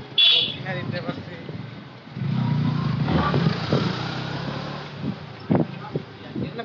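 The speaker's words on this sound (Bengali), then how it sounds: "বাইকের শব্দের জন্য কথা বলি নাই" A motorcycle being ridden on the road, its engine droning steadily with wind and road rumble, swelling at times and punctuated by a few short sharp knocks.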